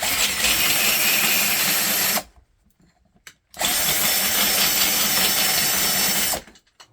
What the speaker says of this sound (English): I chucked this up into my drill. Just keep bringing it down.